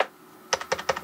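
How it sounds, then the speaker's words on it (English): Keys tapped on a computer keyboard at a PC that will not boot, a short run of about five crisp, close clicks at an uneven rhythm after a brief quiet moment. "I can hit the keys on the keyboard and nothing happens."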